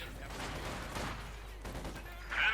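Battle gunfire in the strategy game Company of Heroes 2, with Panzer Grenadiers, MG42 machine guns and Pioneers in action: scattered distant shots and bursts crackle under a commentator's ongoing talk, ending in a louder burst.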